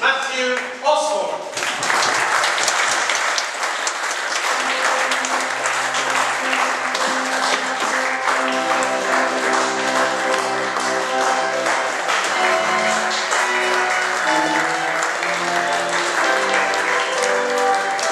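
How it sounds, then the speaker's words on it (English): Audience applause and cheering for a couple being introduced, a loud, dense wash of clapping that holds steady for many seconds, with voices mixed in. "Would you give a big round of applause for Mr. and Mrs. Matthew Osborne?"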